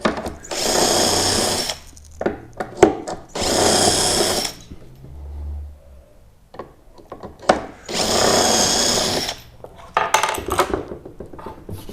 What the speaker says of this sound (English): now I want to drill following up from the height from before